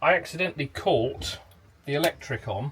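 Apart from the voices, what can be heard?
None of the usual background noises is heard.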